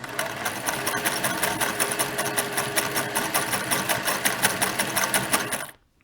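A Singer 401 sewing machine stitches at steady speed, a close, continuous rapid mechanical chatter with regular needle clicks for about five and a half seconds before stopping abruptly.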